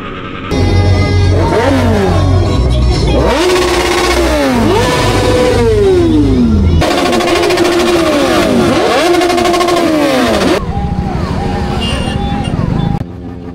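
A Triumph Daytona RS675 superbike engine revs repeatedly, rising and falling in loud, close sweeps as it accelerates through the gears, then settles to an idle.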